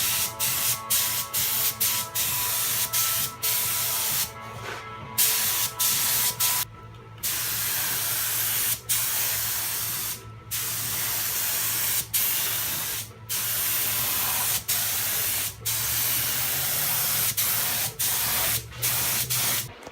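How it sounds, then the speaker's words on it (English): Spray gun laying primer coats on a repaired car body panel, close loud hissing bursts in long passes broken by short, regular pauses as the trigger is released, with no talk. "Now we're going to put 3 to 4 coats of primer."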